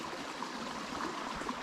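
A small, low-water mountain trout stream in a wild setting flows with a continuous, close, even rushing and gurgle and no voices.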